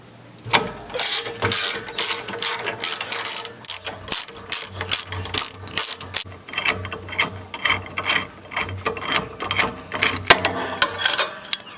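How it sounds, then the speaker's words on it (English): A ratchet backs out the foot peg bolts on a Harley Dyna motorcycle during a forward controls install, with close, rapid clicking bursts repeating in rhythmic strokes, alone. "I'm going to start by taking the foot pegs off. There's 2 bolts underneath."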